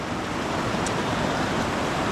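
River water flows steadily and close during autumn gold panning in a French river, a constant broadband rush with one faint high chirp partway through, without any voices.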